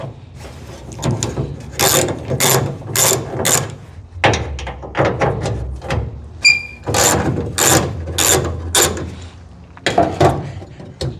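A ratchet wrench loosens the quarter glass bolts on a 1968 Camaro, giving rapid bursts of close, sharp clicking in repeated strokes with short pauses between them.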